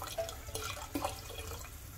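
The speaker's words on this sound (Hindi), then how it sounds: "और चावल डालने के बाद इसमें हम पानी भी डाल देंगे 2 कटोरी।" Water poured into a pot of soaked rice for pulao, a steady splashing trickle with a few brighter drips and plops throughout, close by and alone without talk.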